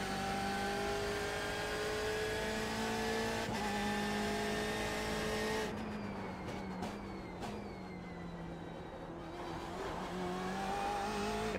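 A BMW M8 GTE race car engine in iRacing holds a sustained, loud, steady drone, with gear shifts, brief cuts and rising revs as the car laps the track.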